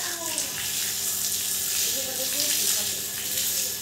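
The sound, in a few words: water being poured on cracked courtyard soil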